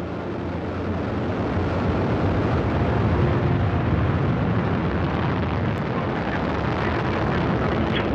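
A Soyuz booster lifts off carrying a crew to the International Space Station, its four strap-on boosters and single core engine producing a loud, continuous broadband roar that holds steady throughout.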